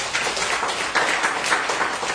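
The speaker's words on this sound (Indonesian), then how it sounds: "Berikan tepuk tangan bagi Yesus." Church congregation clapping during a Sunday morning worship service, a steady dense patter of many hands filling the room, moderately loud and continuous with no talking over it.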